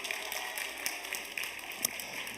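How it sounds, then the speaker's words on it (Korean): Faint, scattered clapping from a church congregation during a Sunday service, welcoming a child helper to the front; light and thin, with a few sharper claps standing out. "박수 한번 해주세요."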